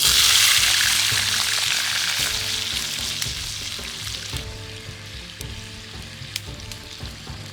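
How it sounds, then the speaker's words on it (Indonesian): Steady, loud sizzling of shrimp frying in hot oil, with occasional soft clinks and stirring sounds, gradually easing slightly in intensity. "panaskan sedikit minyak, lalu kita tinggal menuangkan udangnya"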